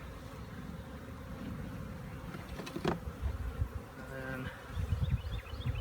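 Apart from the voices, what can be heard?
honey bees buzzing in a swarm trap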